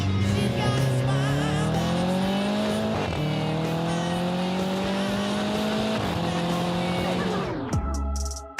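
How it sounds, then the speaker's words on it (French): A Wiesmann MF5 with a BMW twin-turbo V8 of over 600 horsepower revs hard through the gears, loud rising engine notes broken by quick shifts, ending with a sharp drop as the throttle closes. "des V8 biturbo comme sur cette MF5 qui fait plus de 600 chevaux et même des V10 Atmo, toutes avec des sonorités absolument magiques"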